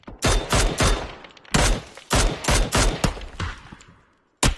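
Bursts of automatic gunfire in PUBG, loud and close, in several rapid volleys separated by short pauses, ending after a brief silence with a final burst.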